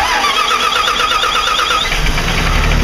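A heavy bus engine, started from the rear, cranks over and catches, its loud mechanical whine giving way to a deep, steady rumble near the microphone.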